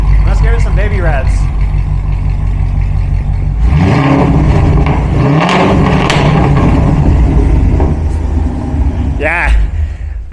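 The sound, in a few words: Corvette engine revving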